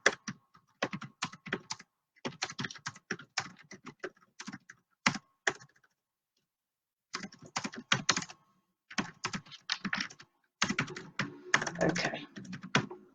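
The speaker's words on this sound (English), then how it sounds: "Give me a second, I'm just typing a message." Rapid clattering keystrokes on a computer keyboard in uneven bursts, broken by a couple of short pauses, close and alone.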